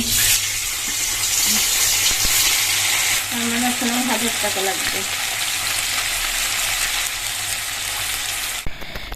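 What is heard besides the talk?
amudi fish frying in hot oil in a wok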